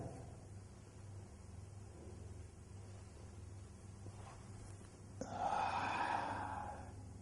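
Deep breath drawn during a strengthening exercise for male stamina, a single broad rushing inhale or exhale near the end over a quiet steady background hum.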